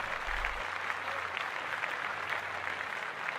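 Steady applause from a small group on a podcast, a dense, even wash of clapping that holds at moderate level for the whole stretch, with a low hum briefly underneath at the start.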